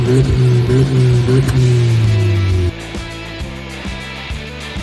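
A Skoda Fabia RS accelerating hard in a timed run, its engine note rising loud and close through two gears, with a gear change near the middle followed by a steadier, rougher pull.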